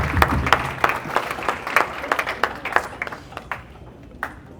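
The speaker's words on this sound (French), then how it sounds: "Une bonne main d'applaudissement pour tout le monde dans la salle" A scattered round of clapping from a small crowd at a civil wedding, uneven and thinning out toward the end.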